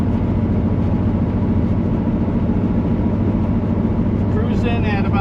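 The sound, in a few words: 1977 Chevrolet Corvette engine cruising at 1,800 RPM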